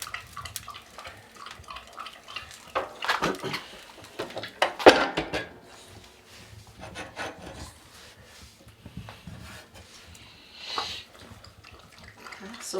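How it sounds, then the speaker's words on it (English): Wet firewood sizzles and hisses inside a Jotul wood stove at an off-grid cabin, with irregular crackles, rasping scrapes and a few sharper pops at moderate, close range. "You hear a lot of sizzling, and that's not good."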